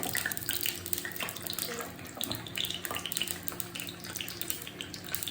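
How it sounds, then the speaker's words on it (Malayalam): Mustard seeds splutter in hot oil for a cucumber kichadi, a dense, continuous crackle of small pops and hiss that stays fairly loud throughout. "കടുക് പൊട്ടുന്നതോടൊപ്പം തന്നെ നമുക്ക് മുളകും കൂടി ഇട്ട് കൊടുക്കാം"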